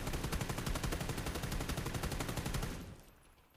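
Automatic gunfire from PUBG, sprayed in one sustained burst at the metal base of an object; rapid, evenly spaced loud shots for about three seconds, then a quick fade into silence.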